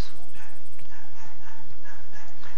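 A dog barks out on the street, heard faintly and at a distance as scattered yaps over a steady indoor background hiss.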